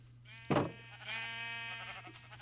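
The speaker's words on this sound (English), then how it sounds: "Oh, now I can hear the square sheep." A single nearby sheep in Minecraft lets out a clear, wavering bleat over a steady low hum.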